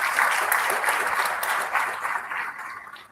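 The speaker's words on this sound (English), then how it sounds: "Can we give DUT and Mr. Price Foundation a round of applause" Audience applause at a waste innovation challenge launch, a steady wash of many hands clapping that slowly thins toward the end.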